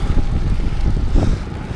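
Strong wind buffeting the microphone during a gravel bike ride in the rain, a loud, continuous low rumble with gusty swells and no voices.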